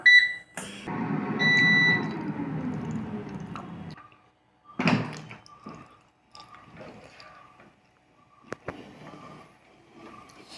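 An air fryer set to 200 degrees for 4 minutes with its basket slid in, a loud sliding clatter and hum, a sharp thump, then soft clicks and faint beeps as it starts.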